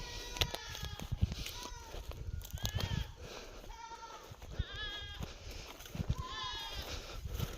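Goats on a goat farm in Uttarakhand bleat repeatedly, several wavering calls rising over a busy background of rustling, knocks and faint voices.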